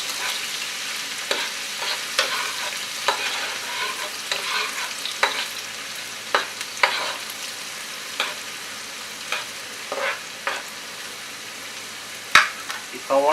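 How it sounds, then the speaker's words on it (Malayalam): Onions sautéing in a pan for green chicken, a steady close sizzle broken by repeated scraping stirs and occasional sharper clacks of a spoon, no talk. "നമുക്ക് സവോള ഇട്ടെടുക്കാം സവോള എന്ന് നല്ലപോലെ വാടിക്കോട്ടെ"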